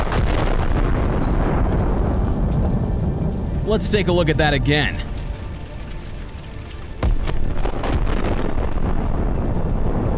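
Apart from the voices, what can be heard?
armored vehicle ammunition explosion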